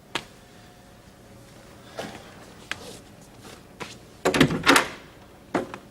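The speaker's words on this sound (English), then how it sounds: "What took you so long to answer the door?" A house door is answered and opened: scattered knocks and footsteps lead to a louder cluster of clunks and latch rattles, followed by one last thump.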